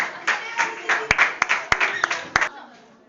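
A group of students in a performing-arts class claps in loose unison, several sharp loud claps standing out, while a voice talks over the clapping until it trails off near the end.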